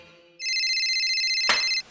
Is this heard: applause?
no